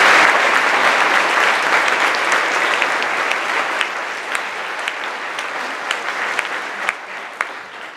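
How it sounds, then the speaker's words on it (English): An audience at a high school spring choral concert applauds warmly in a hall, steady clapping that slowly thins out, with a few sharp individual claps standing out toward the end. "Please join me in thanking you with a round of applause"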